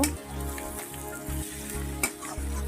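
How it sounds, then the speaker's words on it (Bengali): Fish roe with turmeric stirred in a hot pan, a steady close sizzle of frying oil broken by the scrape and clatter of a spoon moving through the pan, with no voices. "আর পরিমাণ মতন হলুদ দিয়ে দেবো একটু নাড়িয়ে নেব"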